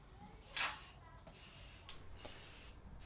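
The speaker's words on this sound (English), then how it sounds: "Making that coffee van super shiny and sheen with the satin black bumper spray" Hissing bursts of an aerosol can of satin black bumper spray painting a van bumper, several presses of varying length separated by short pauses, close and fairly quiet.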